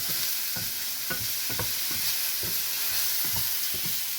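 Onions sauté in a pan for savory neer kozhukkattai, with a constant hissing sizzle and regular spatula scrapes stirring through it, close and unaccompanied by voices.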